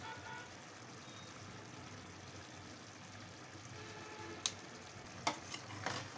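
A spoon stirs chili powder, garam masala and coriander powder through cauliflower and green gram curry in a pan, with a steady soft sizzle and a few sharp scraping clicks near the end.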